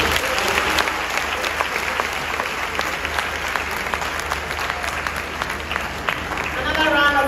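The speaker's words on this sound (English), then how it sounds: "Another round of applause." Applause from an audience at the official launch of a no-fees education policy on a college campus, a dense steady clapping that fills the whole stretch and swells slightly near the end, with a voice faintly under it.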